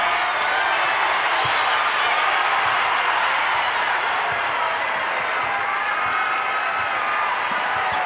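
A big basketball crowd at Mizzou Arena rises to its feet during a women's game between South Carolina and Missouri, producing a loud, sustained roar of cheering and applause that fills the arena throughout.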